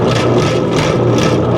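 An M151A1 military jeep engine cranking over out of gear, a loud, close, continuous low mechanical churning and whir that holds steady for the whole stretch with no voices.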